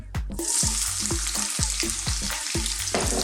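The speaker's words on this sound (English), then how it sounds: "I've got a touch of canola oil in there. You can use any oil you like. What we're going to do is start off by adding some onions" Small-cut onions fry in canola oil in a pan for a quick chicken curry, with a loud, close sizzle broken by a regular series of dull knocks and stirring bumps.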